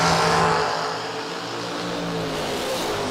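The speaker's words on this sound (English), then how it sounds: "You heard him rip the throttle." Drag racing car engine at full throttle, a loud, sustained roar with a sharp hit at the start that settles into a steady, heavy drone, close and without talk.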